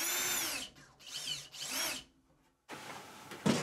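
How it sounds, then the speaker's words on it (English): An electric driver whirs in short bursts while backing out Phillips screws from a Samsung dryer panel, with brief pauses between runs and a small clack at the end. "You can use a Phillips screwdriver or an electric driver"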